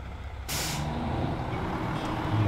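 A long logging truck's air brake in the Snow Runner video game lets out a sharp hissing release over a steady engine drone, followed by continuous low idling rumble.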